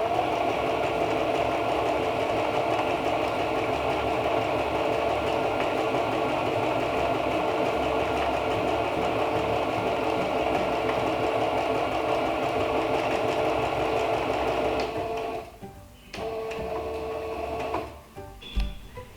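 A sewing machine stitching fabric bunting runs in a loud, continuous, steady whir for about fifteen seconds, then pauses and restarts briefly with a few clicks and handling noises near the end.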